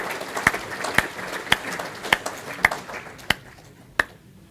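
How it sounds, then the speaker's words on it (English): Applause at a safety charter signing event for a new signatory, heard as sparse, sharp, evenly spaced claps about half a second apart rather than a full crowd ovation, fading out after a few seconds. "Let's give them a round of applause."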